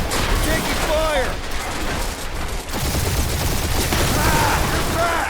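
Continuous rapid gunfire in the Guardians of the Galaxy video game during a spaceship dogfight, loud and dense, with engine roar and voices shouting over it.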